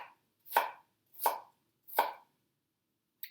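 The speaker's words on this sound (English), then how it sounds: "Onion is chopped." An onion is chopped with a knife on a board: three crisp, evenly spaced chops, close and clear against silence, with the start of a fourth cut at the very end.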